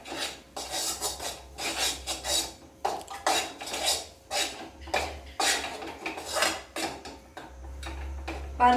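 A spoon stirs and sautés moong dal and wheat flour in a pan, making repeated rasping scrapes against the metal in uneven bursts with brief pauses between strokes.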